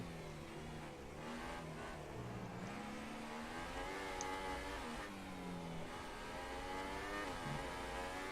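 Formula 1 car engine heard onboard in F1 2018 at the Australian GP, a loud, continuous high-pitched whine rising and falling as the driver shifts gears and accelerates, steady throughout with no talk.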